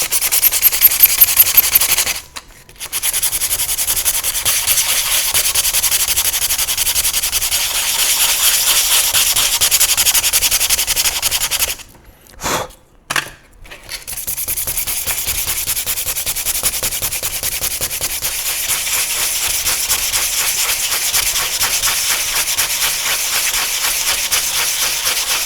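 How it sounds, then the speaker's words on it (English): Sandpaper rubbed back and forth across a surface to roughen it, a steady close scratchy rasp that runs almost continuously, broken by a couple of short pauses. "And now what happened if I roughen this surface up with this sandpaper?"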